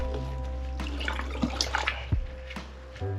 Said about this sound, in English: right now, I'm just stirring it up, stirring them up, letting the color stay